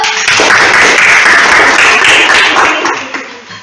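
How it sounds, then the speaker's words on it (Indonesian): A classroom group applauds group 1 after a school experiment report, a dense burst of clapping that fades out near the end. "Tepuk tangan buat kelompok 1."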